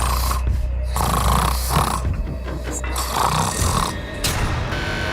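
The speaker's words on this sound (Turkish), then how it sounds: "Şu şapşal polis bütün gece horladı." A man snores loudly while sleeping through the night, deep rasping breaths repeating in a slow rhythm, close and continuous.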